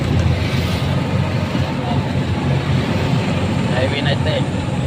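Highway traffic makes a constant broadband roar, with vehicles passing close by and a voice talking over the noise.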